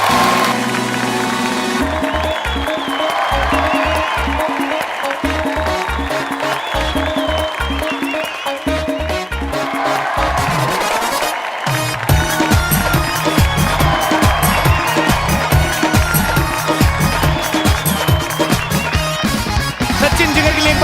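Studio audience on a television comedy talk show applauding and cheering as two music directors are welcomed, a loud sustained wash of clapping mixed with music that grows fuller halfway through.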